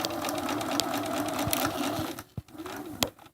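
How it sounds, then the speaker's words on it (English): A sewing machine stitches a quarter-inch seam in a steady, continuous whirring run that stops and restarts briefly near the end, with a couple of sharp clicks as it pauses. "You're going to sew to there."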